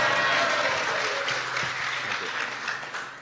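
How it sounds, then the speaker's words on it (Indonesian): An audience of inmates at a religious talk inside a special prison breaks into dense, sustained applause, a steady wash of clapping that fades slightly toward the end. "Boleh kasih tepuk tangan dulu dong"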